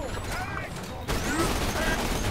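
Gunfire in the Borderlands 2 video game, a dense, sustained burst of rapid shots that jumps louder partway through, mixed with game effects and a voice talking over it.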